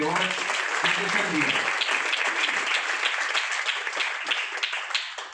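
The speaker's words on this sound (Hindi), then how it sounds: "सबसे पहले तो राघव साहू जी एंड टीम और देवानंद जी के लिए एक जोरदार ताली होना चाहिए कि" Sustained audience applause and clapping at a corporate motivational event, dense and loud throughout, with a few voices mixed into the crowd noise.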